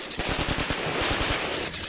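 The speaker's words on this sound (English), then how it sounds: "No! Stop shooting!" Rapid machine gun fire during a tense armed standoff in the wild, a loud, continuous burst of closely spaced shots that runs steadily for about two seconds with no speech over it.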